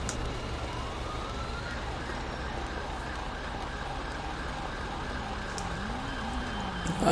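A distant ambulance siren in GTA V wails and rises faintly over a steady background rumble, with no one speaking.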